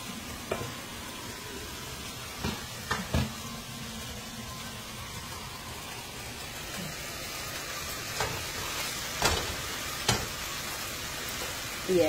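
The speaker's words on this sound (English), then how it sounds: "And I'm over here cooking some shrimp." White belly shrimp frying in a pan on a weak electric kitchen stove, a steady close sizzle with scattered sharp pops and clatters of stirring throughout.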